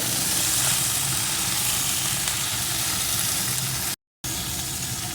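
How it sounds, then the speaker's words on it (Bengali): Helencha greens with a little salt fry in hot oil in a pan, giving a steady, dense sizzle that stays loud and close throughout, with a very brief dropout near the end. "এখন এই শাকগুলোকে একটু ভেজে নেব"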